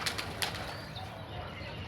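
Pigeons flap their wings in a pigeon loft in Rajshahi, giving a few soft, brief flutters over a faint, steady background hiss.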